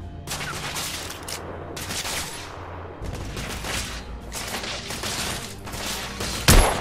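Heavy gunfire in The Order: 1886 on PS4: dense overlapping bursts of rifle and machine-gun shots crackling in rapid volleys, loud and continuous, ending with a sharp booming blast.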